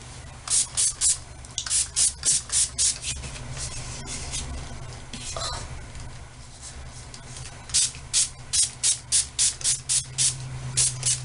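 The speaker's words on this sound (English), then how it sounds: "and then I'm going to spray some heat protectant" Heat protectant spray misted onto long hair in short repeated bursts, a run of quick hissing sprays early on, a pause, then another rapid series of close, crisp spritzes.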